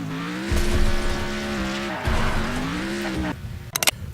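In the racing video game Next Car Game, tires squeal continuously over a revving engine as a car spins donuts, the screech wavering in pitch before cutting off with a few sharp clicks.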